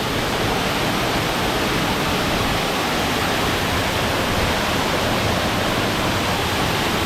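Oliyaruk waterfall in Kollam district, a loud, constant roar of falling water that is broad and unbroken for the whole stretch, with no voices rising above it.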